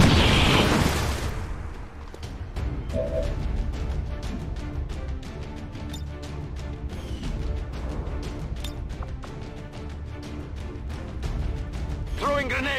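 A grenade blast in XCOM 2 erupts loudly at the start, then fades into scattered pops, clatter and ongoing game noise.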